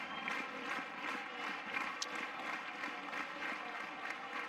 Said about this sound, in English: the crowd, they're up on their feet